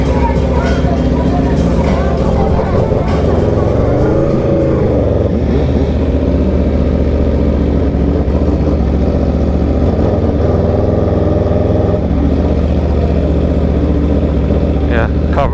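An Aprilia RSV4 and an MV Agusta motorcycle ride out from a supercar meet, their engines droning and revving continuously and loudly over wind noise.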